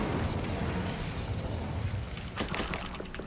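Casting the Incendio fire spell in Hogwarts Legacy produces a dense, roaring burst of flame, continuous and close, with sharper crackling flickers toward the end.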